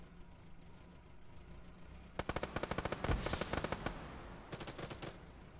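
Bursts of rapid automatic gunfire in a Task Force Badger tactical shooter match, a tight rattling volley followed by a shorter second burst over a low background hum, moderately distant and with no talking.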